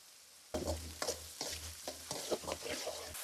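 Curry leaves and onion fry in hot oil, a crackling sizzle that bursts up as they hit the pan, followed by several quick stirring strokes, close and moderately loud.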